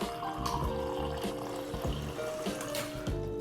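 Water streams from a refrigerator's dispenser into a cup, a steady close gurgling fill with light splashing throughout.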